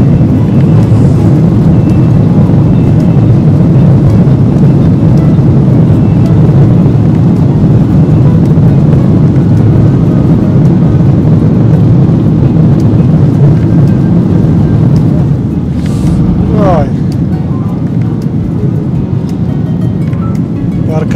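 Cabin noise inside a small, worn passenger airplane in flight to Bujumbura, a loud steady low engine drone and rushing air, with a brief rattle or bump near the end.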